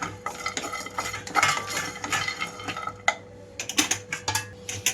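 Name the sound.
stirring sesame, fennel, cinnamon, cloves, cardamom, coconut roasting in pan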